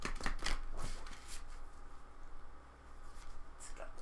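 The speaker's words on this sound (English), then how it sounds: "Now, I'm just going to shuffle a little bit more for you guys. These are so big for my little hands." Large tarot cards shuffled by hand, with a few sharp papery slaps and riffles early on, then softer rustling; close and fairly quiet.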